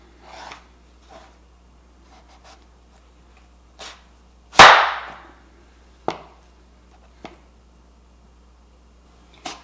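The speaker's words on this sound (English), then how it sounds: "You can use a vegetable peeler or a knife and just cut off all the sides." A knife slices the skin from the sides of a butternut squash in a kitchen, giving several separate scraping cuts, one much louder and longer rasping stroke among them, with quiet pauses between strokes and no talk.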